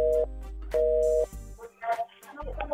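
After a call drops, a telephone line gives two steady electronic tone beeps with a low hum beneath, followed by a person beginning to speak.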